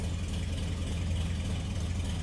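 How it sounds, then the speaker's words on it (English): A 1941 Chevrolet Special Deluxe coupe with a largely stock inline-six engine idles in a steady, low exhaust rumble with an even, unbroken rhythm, fairly quiet and close, with no talking. "Let's go ahead and take a listen to that exhaust, see how the engine sounds."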